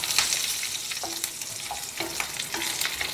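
Red and green chillies sizzle and crackle in a hot pan for ridge gourd chutney, a close, continuous frying hiss broken by a few short stirring scrapes, with no voices.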